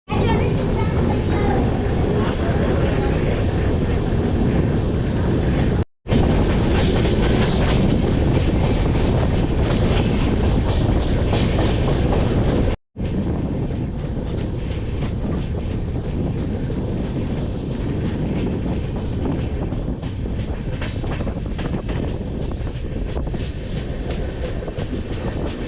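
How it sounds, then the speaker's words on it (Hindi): A passenger train departs Bareilly station in India, a loud steady roar of rolling wheels and wind rush that stays close and continuous throughout, broken only by two brief dropouts. "2 मिनट के होल्ड के बाद हमारी ट्रेन यहाँ से डिपार्ट लेने को तैयार है।"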